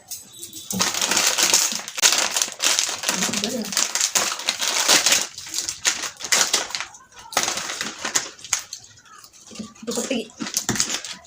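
Dried red chillies crunched and crushed between the teeth during a one-minute eating challenge, a dense run of close, crackling bites and crinkles with voices talking over them.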